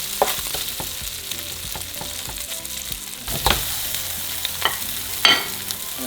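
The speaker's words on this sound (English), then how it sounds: "So now we're going to add our chorizo or longaniza." Chorizo or longaniza frying with bacon in a pan gives a steady, close sizzle, with a few louder bursts and scrapes of stirring partway through. No one speaks.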